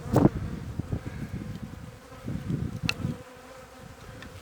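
Honeybees buzz steadily around an opened hive during the first inspection of the year, a close, continuous drone with a few sharper clicks of the hive tool and no talking.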